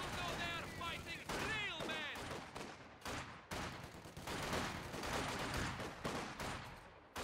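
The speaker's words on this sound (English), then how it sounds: "Yep, we're taking fire again." Dense rolls of rifle and machine-gun fire crackle through a WWII video game battle, bursts packed close together and loud throughout, with tones and effects sounding beneath the shooting.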